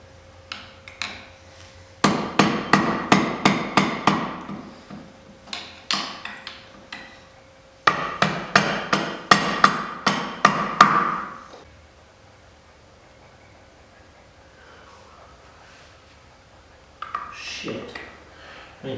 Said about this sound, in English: So let's see if I can bend this washer flat.